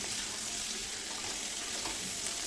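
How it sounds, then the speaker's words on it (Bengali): Flat beans and potato curry frying uncovered in a pan, with a steady, dense sizzle that goes on without a break. "এবার আরও দু তিন মিনিট একটু ভেজে নিচ্ছি"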